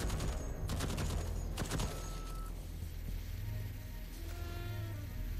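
Automated gun turrets in the video game Deathloop fire rapid bursts of gunfire, with quick sharp volleys early on and then a lower rumble of continuous fire. The shooting sounds at a distance and is fairly faint.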